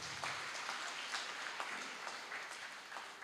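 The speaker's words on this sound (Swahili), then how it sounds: "Tupigie wageni wetu makofi." Steady applause from a church congregation during a Sunday service, welcoming guests, many hands clapping at an even pace, soft and somewhat distant, with no voices over it.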